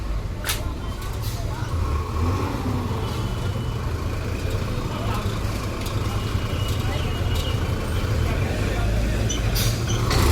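Government and private buses stuck in a roadside traffic jam, a dense continuous rumble of idling engines and road noise with occasional sharp clanks and hisses, fairly close.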